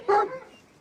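Hunting dogs eager to set off on a hunt after deer, boar or rabbit give a single close yelping bark that trails into a brief whimper.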